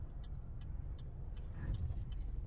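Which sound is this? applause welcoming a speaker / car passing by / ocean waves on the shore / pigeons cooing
car passing by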